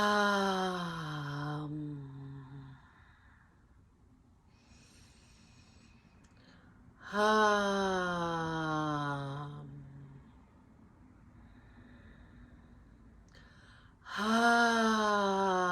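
Deep, drawn-out breaths during a jaw exercise, three long voiced inhales with a moaning, sighing quality, spaced several seconds apart with quiet breathing between.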